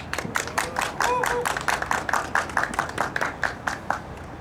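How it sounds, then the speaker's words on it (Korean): A crowd at a Justice Party rally claps to welcome the party's co-leader, quick distinct handclaps rising into steady applause that sounds fairly close, with a brief voice early on. "나경채 공동대표님을 큰 박수로 소개하도록 하겠습니다"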